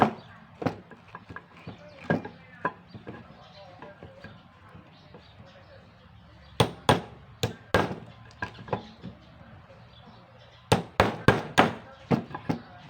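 Sharp hammer blows strike wood in irregular clusters while stripping coil windings from an air-conditioner fan motor, some single knocks and rapid runs of loud hits, up close.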